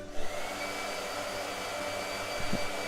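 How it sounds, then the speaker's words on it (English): A blow dryer drying paint on a painting of Whitney Houston runs with a steady, close whirring hum, with a brief bump of handling noise near the end. "says too much blow dryer"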